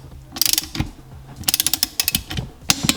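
Torque wrench ratcheting and clicking while tightening bolts on a Seadoo 717 engine during a rebuild, with quick bursts of close, sharp clicks in several separate runs and short pauses between them.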